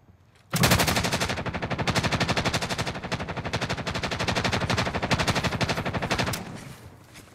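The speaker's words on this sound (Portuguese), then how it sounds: "Tem sniper aí. Ele tá atirando toda hora." Sustained automatic gunfire during a Call of Duty: Modern Warfare match, a long unbroken burst of rapid, evenly spaced sharp cracks that starts abruptly and rattles on for several seconds, loud and close before tapering off.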